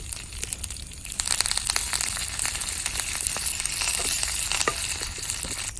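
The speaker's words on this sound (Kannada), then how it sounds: "ಈಗ ಸ್ವಲ್ಪ ಒಂದು ಒಗ್ಗರಣೆ ಹಾಕಿದರೆ ಆಯಿತು ಸ್ವಲ್ಪ ತೆಂಗಿನೆಣ್ಣೆಗೆ ಸ್ವಲ್ಪ ಸಾಸಿವೆ ಮತ್ತು ಸ್ವಲ್ಪ ಉದ್ದಿನ ಬೇಳೆ" Mustard seeds, urad dal, crushed garlic and curry leaves sizzle in hot coconut oil for a tempering, a close crackling hiss dotted with quick pops and spits that runs on without talk.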